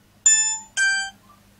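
A mobile phone rings loudly with two short, bright electronic chime bursts in quick succession, clear and close against a quiet background.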